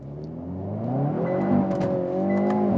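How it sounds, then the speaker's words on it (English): A Hyundai Veloster N launches hard with its wheels spinning, the engine note climbing steadily and loud from inside the cabin over about three seconds, with a faint high squeal flickering above the rising drone. "So some wheel spin there."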